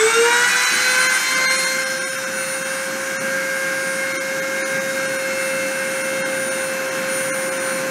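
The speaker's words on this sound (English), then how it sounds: "I'm going to go ahead and start the deposition and see what happens." A deposition machine spins up at the start of a run, giving a steady loud whine with a rising tone and a broad vacuum-like roar that holds constant throughout, with no talking.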